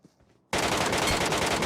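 Automatic sniper rifles, a Mini14 and an MK14, fire in a shooter video game. After a short quiet lead-in, a dense, loud burst of rapid gunfire starts abruptly and runs continuously to the end.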